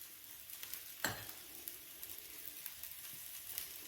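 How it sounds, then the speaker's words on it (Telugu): Rava dosa batter sizzles in oil on a hot pan, a faint steady hiss with one sharp clink or scrape near the start and a few small crackles. "దీనిపై కొంచెం ఆయిల్ పోస్తున్నాను. ఆయిల్ కొంచెం ఎక్కువే పడుతుంది రవ్వ దోశలకి."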